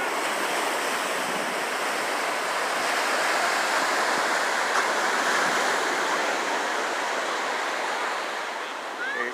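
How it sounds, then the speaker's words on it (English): Atlantic Ocean surf at Cape Henlopen State Park beach in Delaware, a continuous broad wash of breaking waves with some wind rumbling the microphone, loud and close throughout. "Cape Henlopen State Park, Delaware, and this is the Atlantic Ocean"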